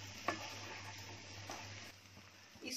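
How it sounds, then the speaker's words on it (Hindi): Cashew nut masala is roasted and stirred in a pan for a kaju curry, giving a steady low sizzle with a couple of scraping stirs, fairly quiet and with no talk. "इसको मैं अच्छे से भून रही हूँ"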